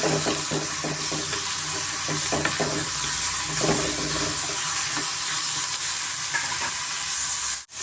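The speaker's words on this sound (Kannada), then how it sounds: "ಚೆನ್ನಾಗಿ ಎಣ್ಣೆನಲ್ಲಿ ನಾವು ಫ್ರೈ ಮಾಡ್ಕೋಬೇಕಾಗುತ್ತೆ ಮೀಡಿಯಮ್ ಫ್ಲೇಮಲ್ಲೂ ಕೂಡ ನಾವು ಫ್ರೈ ಮಾಡ್ಕೊಳ್ಳೋಣ" Tender ridge gourd frying in oil over a medium flame for chutney, giving a loud, even sizzle throughout with occasional soft stirring scrapes, ending in a sudden brief drop.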